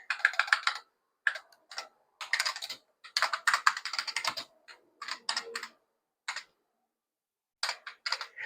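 Keys clatter on an IBM 5150 PC keyboard in short bursts of rapid, crisp clicks separated by pauses, close and clear with no voices.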